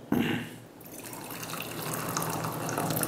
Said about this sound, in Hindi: चलो गर्म पानी भी डाल देता हूँ